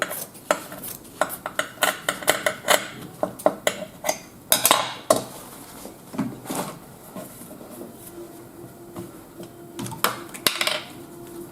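Scissors cut recycled cardboard while leaving a margin, making a run of crisp snips and clicks close by, dense at first and then sparser over a faint background.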